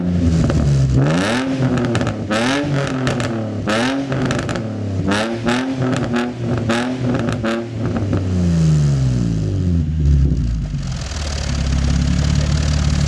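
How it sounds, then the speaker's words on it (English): A car engine with replaced flex pipes, test pipes and an HKS replica exhaust revs repeatedly, rising and falling in pitch through several quick throttle blips before settling back to a rough idle, loud and close. "gonna rev the car so I can hear it"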